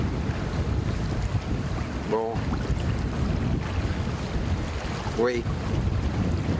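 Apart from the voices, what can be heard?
wind and waves on a boat at sea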